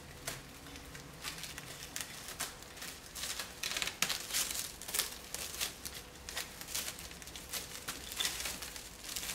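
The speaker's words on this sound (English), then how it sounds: "take some plastic wrap and wrap it around my head to make sure that the heat stays in there" Thin plastic wrap crinkles and rustles in a steady run of crackly bursts as it is wound around a head of hair under a color remover, fairly close with no talking.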